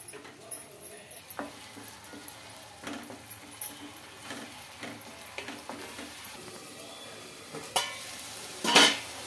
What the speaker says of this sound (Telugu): ఈ ప్యూరీ అంతా మనకు ఆయిల్లో ఉడికి ఆయిల్ పైకి అనేది రావాలండి